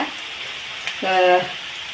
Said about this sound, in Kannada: ಚೆನ್ನಾಗಿ ಎಣ್ಣೆಯಲ್ಲಿ ಫ್ರೈ ಆಗ್ತಾ ಇದೆ